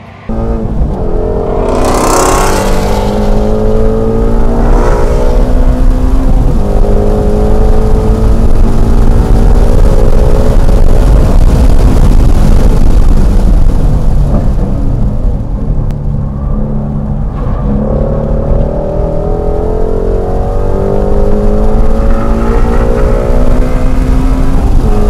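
A Shelby GT350 lapping a race track, heard from inside the car: a loud, continuous engine drone that rises and falls with throttle and gear changes, steady all the way through.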